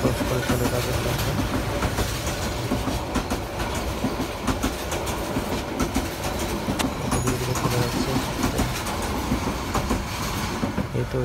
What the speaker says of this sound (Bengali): এই তো ওই ট্রেনটা চলে যাচ্ছে।